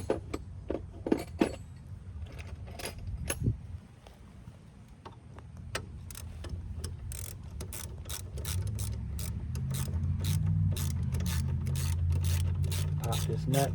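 A wrench ratchets on a nut during front wheel bearing work on a 2001–05 Kia Rio, giving rapid close clicking bursts and metallic clinks, with someone talking at times.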